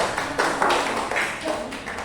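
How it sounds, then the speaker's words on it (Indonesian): Audience applause for someone speaker at a Catholic religious instructors' presentation event, a short burst of moderately loud clapping from a room of people with no talk over it. "Tepuk tangan untuk Ibu Rita"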